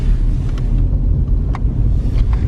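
A worn, high-mileage Volkswagen Jetta TDI Mark IV wagon drives along with a steady low rumble of engine and road noise, heard from inside the car.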